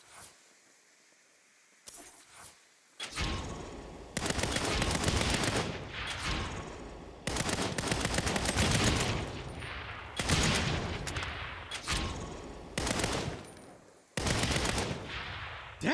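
Sustained automatic gunfire from the Saints Row video game, played on PS5. Loud, dense bursts last a couple of seconds each and are split by short pauses. Quieter ambience opens the passage before heavy firing takes over.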